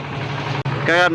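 A hired wooden motor boat's engine drones steadily on a river ride near Manikganj, close and fairly loud, with a voice rising briefly over the hum near the end.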